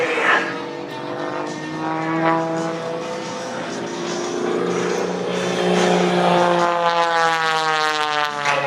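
Propeller-driven aerobatic plane flying a straight double hammerhead at the 2014 California Capital Air Show, its loud engine drone rising and falling in pitch as it climbs, stalls and dives, steady and close throughout.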